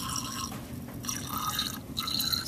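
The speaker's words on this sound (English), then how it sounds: "I'm going to add in my distilled water" Distilled water poured into a glass test tube holding a chloride substance for a lab test, giving a soft, steady trickle with small drips, fairly quiet and with no talking.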